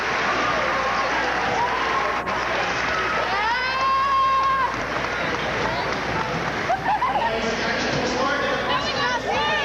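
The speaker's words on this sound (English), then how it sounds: "let's have a round of applause and appreciation for the fine show and the effort these teams have put in all season" At the 1992 girls' provincial basketball championship, Dakota vs Glenlawn, the gym crowd gives the teams a round of applause after the game. The clapping is a steady broadband roar with scattered shouts and voices mixed through it.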